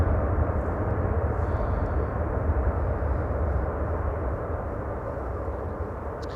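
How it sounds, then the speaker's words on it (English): An airliner landing at Amsterdam Schiphol with thrust reversers deployed, a broad, steady roar of jet noise that slowly fades, heard from outside the airfield with no talk. "That's reverser use and wheelie."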